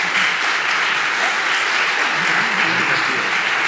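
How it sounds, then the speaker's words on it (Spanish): Steady, dense audience applause fills the space at an event in Madrid, loud and continuous from start to finish with a faint murmur of voices beneath. "Y un aplauso a ellos principalmente y a todos."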